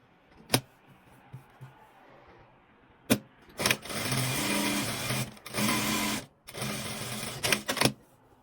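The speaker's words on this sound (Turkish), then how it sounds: "Şu şekilde tam buradan bir dikiş gideceğim." Sewing machine stitching a shirt placket, with a few sharp clicks and knocks before it runs in three bursts of fast, even whirring, each a second or more long, with brief pauses between them and more clicks at the end. It is close and clear, with no talking.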